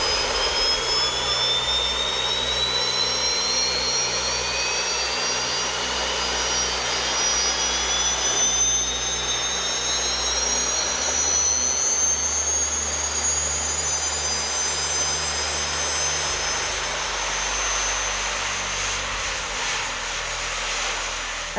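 Jet engines held at their lowest setting, a loud continuous roar and rushing hiss close by with a high whine slowly rising in pitch and a steady low drone underneath, no speech.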